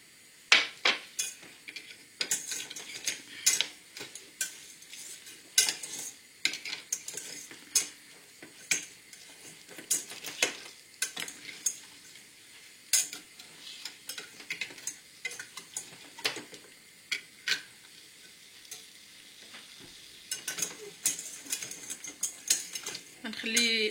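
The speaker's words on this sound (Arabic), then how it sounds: "كنبقى نحرك هكذا على نار ناقصه" Chocolate melting with butter in a pan over low heat, stirred continuously: repeated soft scraping and clinking strokes in an uneven rhythm, close and fairly quiet.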